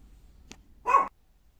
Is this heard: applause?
no